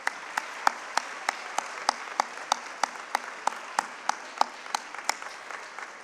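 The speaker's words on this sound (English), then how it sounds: "So I think a round of applause." Slow, steady applause at a primary school multicultural event, each clap sharp and evenly spaced about every third of a second, fairly close and alone with no talking.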